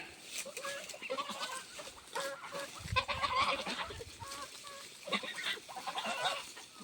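Geese honk repeatedly in short bursts at a moderate distance on a farm, with faint voices and farmyard rustling mixed underneath.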